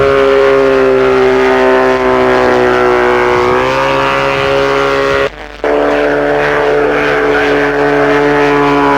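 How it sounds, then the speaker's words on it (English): Small propeller aircraft, the one flown in the James Bond film Moonraker with dummy rockets under its fuselage, droning loud and close at the 1982 Ulster Air Show, a steady buzzing engine tone that shifts pitch slightly as it passes. "This little aircraft was designed and flown by the Wing Commander in the James Bond movie Moonraker."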